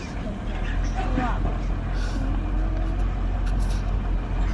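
Heavy road traffic rumbles steadily close by, a bus or truck engine droning with a brief air-brake hiss, while a child and an adult chat over the noise on a family outing.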